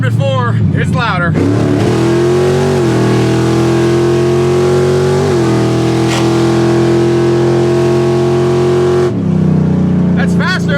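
Big 3800 engine in a $3,500 drag car with a manual valve body, droning loudly and steadily at cruising RPM after a shift, a sustained throaty hum that shifts pitch slightly before dropping off, with brief talk at the edges.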